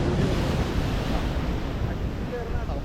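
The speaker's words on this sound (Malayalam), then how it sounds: "കടൽ ഇപ്പോൾ വീണ്ടും രൂക്ഷമായിട്ട് കടൽ കയറി കയറി വരുന്നുണ്ട്" Rough sea surges onto the shore in a continuous loud roar of surf with strong wind buffeting the microphone, close and dense throughout.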